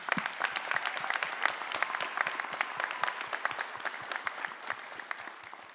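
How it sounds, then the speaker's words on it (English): Applause at a high school graduation ceremony, a crowd clapping in a steady patter of distinct sharp claps with moderate loudness, tapering slightly at the end. "I would like to also give another round of applause for all the people here supporting us today"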